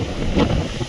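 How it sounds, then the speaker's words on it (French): Strong wind gusting and whistling across an open hillside among windmills in Spain, buffeting the microphone in a steady roar that swells near the middle. "Je ne sais pas si vous entendez le vent, le sifflement,"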